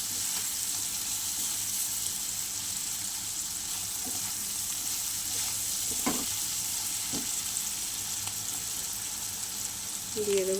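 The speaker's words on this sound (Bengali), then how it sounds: "আমি সুন্দর করে ভেজে নেব। বড় সাইজের একটা পেঁয়াজ দিয়েছি" A large onion frying in hot oil in a pan for Bhola fish curry, a steady even sizzle with a few faint stirring scrapes, close and continuous.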